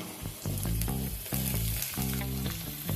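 Potatoes and ridge gourd fry in a pan, a loud close sizzle with a rhythmic stirring scrape and pulsing beneath the steady hiss.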